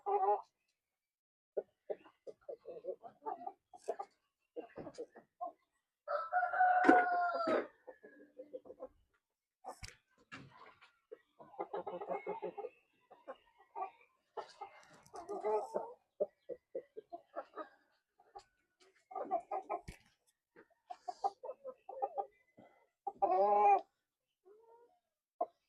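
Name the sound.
Rhode Island Red Mahogany heritage chickens clucking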